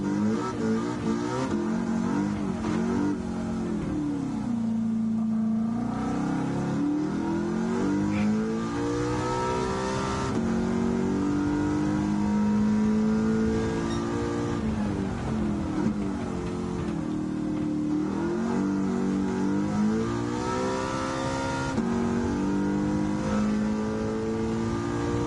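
A Porsche's engine revs repeatedly, with a mid-pitched tone climbing and falling in waves and steady engine drone in between, sounding close and continuous.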